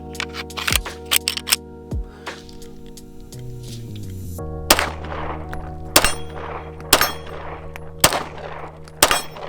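Several sharp, loud shots from a DIY Glock pistol built on an 80% Arms frame, fired one at a time at irregular intervals, each crack followed by a brief ringing decay over a steady low hum.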